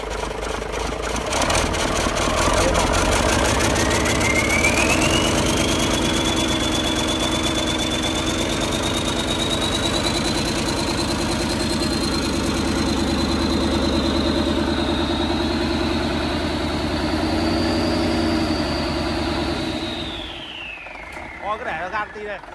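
DHI engine, 1 tấc 35 bore, running steadily after a rev, a continuous loud mechanical drone with a long high whine that fades as it settles, while people talk nearby.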